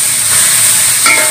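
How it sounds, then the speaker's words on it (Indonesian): Shallots fry for sambal in hot oil, giving a loud, steady sizzling hiss throughout with a brief stirring clatter near the end. "Goreng buat sambal."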